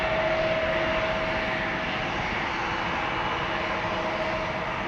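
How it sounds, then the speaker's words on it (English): A KLM passenger jet, seven years old, departs Amsterdam Schiphol on its way to Stavanger, its engines producing a loud, steady roar with a faint whine running through it. "KLM flight 1175 to Stavanger"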